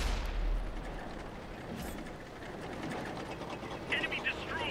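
A tank cannon fires in a tank video game from the M6A2E1, a deep low boom at the start that fades into rumbling game noise and mechanical clatter.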